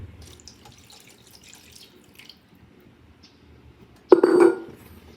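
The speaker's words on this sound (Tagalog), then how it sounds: "maglalagay tayo ng 1 cup ng tubig" Water poured into a cooking pot for fish paksiw with coconut milk, a short close splashing burst near the end after a quiet stretch of faint kitchen background.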